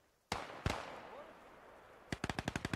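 German MG42 machine gun in the WWII strategy game Gates of Hell: two single loud cracks with echoing tails, then a rapid, evenly spaced burst of about eight shots, close and sharp.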